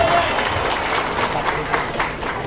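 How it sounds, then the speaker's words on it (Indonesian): Applause for two leaders at an installation ceremony of a community association in Batam, a burst of crowd clapping with a voice heard alongside. "Tepuk tangan untuk kedua pemimpin kita."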